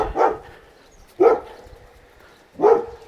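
A small dog gives three sharp, high barks spaced about a second apart, fairly close, with quiet background between them.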